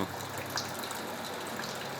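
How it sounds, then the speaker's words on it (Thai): Huai Chan waterfall in Khun Han, Sisaket, swollen with heavy rainy-season flow, gives a steady, dense rushing roar of falling water that holds evenly for the whole stretch with no voices. "นั่นคือน้ำตกห้วยจันนะครับ เป็นน้ำตกที่มีขนาดใหญ่มาก"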